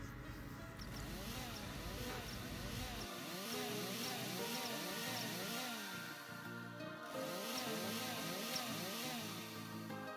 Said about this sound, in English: You can actually hear the buzzing of the saw